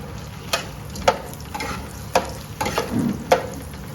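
Whole fox nuts (makhane) frying in ghee over medium heat in a pan, a soft steady sizzle broken by several sharp stirring scrapes and clicks of a spoon against the pan.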